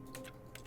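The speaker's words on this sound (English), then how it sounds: "Every time I press my mouse, it makes a clicking sound." Computer mouse clicking at a desk during play of The Stanley Parable: Ultra Deluxe, a few close, crisp clicks in quick succession under a steady low background hum.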